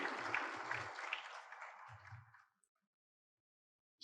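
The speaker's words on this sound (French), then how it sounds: "C'est sous vos applaudissements, mesdames et messieurs." Brief applause at an agricultural forum panel, a moderate patter of clapping that fades out after about two and a half seconds into near silence.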